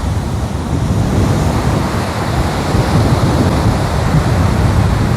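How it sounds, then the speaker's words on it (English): Ocean surf rolls onto a beach in steady wind, a loud continuous wash of breaking waves mixed with wind buffeting the microphone, no voices. "the waves are rolling in."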